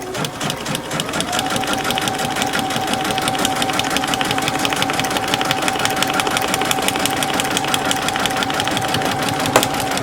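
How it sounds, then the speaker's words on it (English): A sewing machine stitches steadily through a paper-pieced quilt block, running a fast, even back stitch at close range with no pauses and no talking. "I usually like to put a back stitch inside and then extend beyond."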